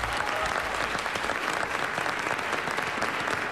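A studio audience applauds Michel Piccoli on a French radio show: dense, steady clapping that fills the whole stretch at an even loudness, with no voices on top.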